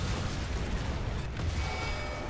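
Tank gunfire in a tank video game, heard as dense, continuous rumbling battle noise with muffled booms and bursts blending together at a loud, steady level and no clear speech.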